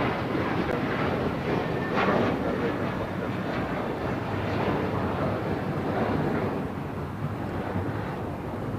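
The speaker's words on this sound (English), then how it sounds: "This is American Airlines 1658 taking off to Dallas Fort Worth on an A321." An American Airlines A321 takes off at LAX bound for Dallas Fort Worth, a steady, loud broadband engine roar with wind rush that holds for the whole stretch without fading.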